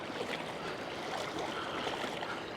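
A small tidal creek near Crooked River on the New South Wales south coast, flowing strongly as the tide changes, with a steady broadband rush of moving water close by and no talk.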